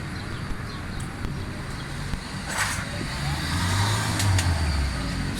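A Suzuki Alto 1000cc car idles after a carburetor service, a low steady engine hum that rises slightly toward the end, with someone talking over it and faint outdoor background noise.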